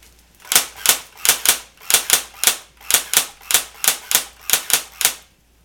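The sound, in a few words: airsoft gun (Pulse R71) firing semi-automatic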